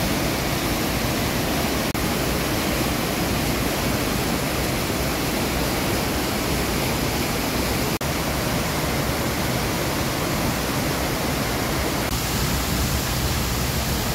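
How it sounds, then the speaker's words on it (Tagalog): Rushing water of Ditumabo Mother Falls, a waterfall, roars as a dense, steady hiss with no break for the whole stretch, loud and close, and no voices. "Medyo malakas na yung lagaslas ng tubig"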